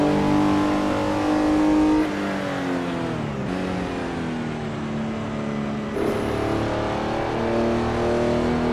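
A Porsche 906E race car with Bosch fuel injection in Assetto Corsa, its engine holding a loud, steady drone with pitch shifts as it changes gear and rises and falls in revs.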